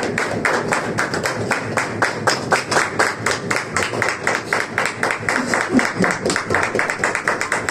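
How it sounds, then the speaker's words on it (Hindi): A congregation gives a loud, sustained round of rhythmic applause welcoming a pastor at a church gathering, with dense clapping continuing steadily throughout without talk. "खुदा के खादम को और खुदा के कलाम को जोरदार तालियों से वेलकम कहें।"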